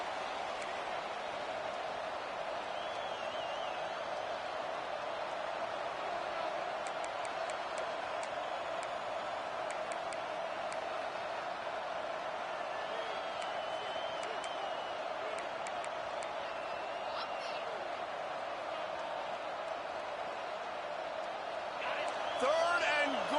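A stadium crowd roars steadily in a college football video game, Auburn against Tennessee, with a constant dense wash of noise and occasional claps and whoops while a commentator talks over it.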